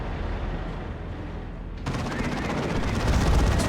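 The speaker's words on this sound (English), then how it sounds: "Big plasma blast gun." Heavy gunfire from a Stormblade's plasma blast gun in a Dawn of War 2 multiplayer battle: a dense barrage that abruptly grows louder and brighter midway, continuing as a sustained roar of shots and booms.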